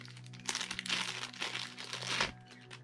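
Plastic package bag of GoPro accessories from AliExpress being unpacked, a steady close crinkling and rustling of thin plastic lasting a couple of seconds.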